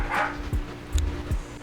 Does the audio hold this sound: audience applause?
no